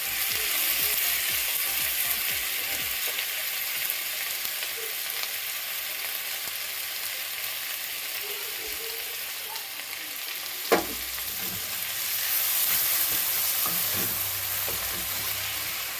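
Ground spice paste of poppy seed, melon seed and cashew sizzles steadily in a pan for a vegetarian cauliflower roast, with a continuous frying hiss, occasional stirring scrapes and one sharp clack near the end.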